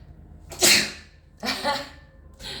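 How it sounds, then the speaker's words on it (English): Two loud, sharp sneezes in quick succession, followed by a softer third burst, close to the listener. "hold on, I'm gonna sneeze"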